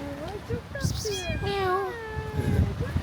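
A cat meows several times close by, with rising and falling cries, in the old Greek village of Kumyaka near Bursa, Turkey, while a voice speaks briefly in between.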